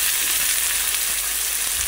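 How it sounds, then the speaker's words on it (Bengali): Leafy greens with raw ginger frying in a pan give off a dense, continuous sizzle, loud and close, with no pauses. "শাক ভাজি হচ্ছে"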